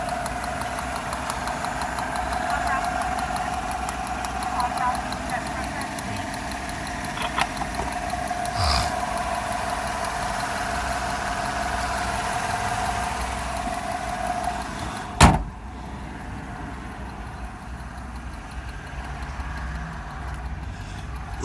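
A truck engine idles steadily under the open hood, a continuous mid-pitched rumble with a faint knock, interrupted by a single sharp click before the hum carries on unchanged.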